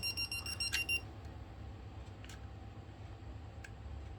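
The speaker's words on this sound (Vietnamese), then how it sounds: "Mình chạm vô cái dây lửa trực tiếp vô nguồn điện thì nó kêu tít tít tít tít tít" A cheap voltage tester pen with a speaker and indicator lights beeps rapidly and shrilly when touched to a live wire, a quick burst within the first second over a quiet hum.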